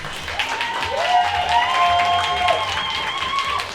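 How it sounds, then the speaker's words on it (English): A pub audience at a poetry slam in Calgary's Dickens Pub applauds steadily, with a dense wash of clapping and some sustained tonal whoops or whistles rising over it throughout. "Can we give ourselves a big round of applause?"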